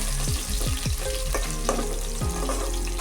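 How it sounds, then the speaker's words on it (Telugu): Mustard seeds, cumin, onions, green chillies and curry leaves frying in hot oil as a tempering for Andhra-style fish curry, giving a loud, steady sizzle with sharp crackles and pops scattered throughout. "పోపు సామాన్లు ఆవాలు, జీలకర్ర, ఉల్లిపాయలు, పచ్చిమిరపకాయలు, కరివేపాకు."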